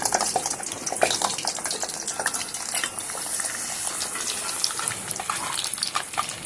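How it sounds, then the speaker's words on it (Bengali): Amla pieces sizzle in hot oil for a homemade herbal hair oil, a dense, steady crackle with many small pops close by, and nobody speaks. "তেলটা গরম হয়ে গেছে এবারে সমস্ত উপকরণ আমি তেলটার মধ্যে দিয়ে দেব আমি সবার প্রথমে আমলকিটা দিয়ে দিলাম"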